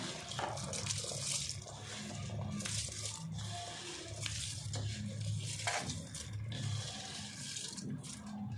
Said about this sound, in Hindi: चावल अब मैं इसमें शामिल कर दूँगी